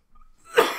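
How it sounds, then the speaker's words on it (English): A single short cough, close and fairly loud, preceded by a faint breath. "you have to hear me cough"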